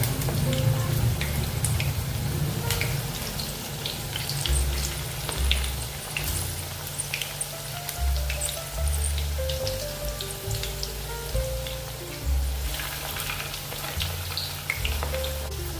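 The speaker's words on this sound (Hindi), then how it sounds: "अभी कम गैस के ऊपर इसको तलेंगे, अंदर से अच्छे से तलने के लिए होना।" Potato manchurian pieces fry gently in oil over a low gas flame, giving a continuous soft sizzle and crackle with scattered pops, close and steady throughout, no voices.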